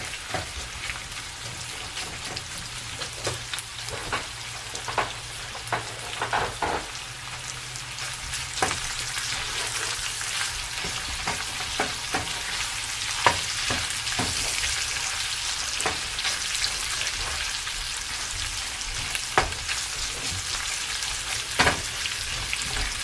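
Sausage frying in a pan gives a continuous close sizzle with repeated scraping and clinking as it is stirred about once a minute to brown, running steadily with no voices.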